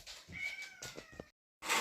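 A house cat gives a few close, plaintive meows in quick succession, fairly quiet, followed by a brief silence and then a louder burst of noise.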